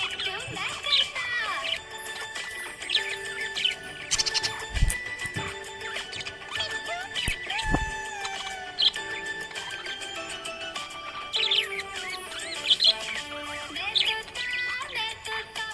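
A pet budgie gives bright, rapid chirps and tweets over a steady bed of cheerful music, the bird calls close and scattered throughout without pause.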